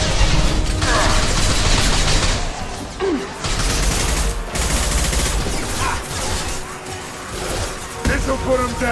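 Sustained combat gunfire from Mass Effect 2 Legendary Edition rattles in loud, dense bursts with mechanical clatter and impacts throughout. Brief gaps break up the firing, and voices can be heard amid the shooting.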